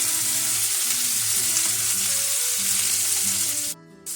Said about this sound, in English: you want to take a pair of tongs and lay the steak in the pan away from you so it doesn't slide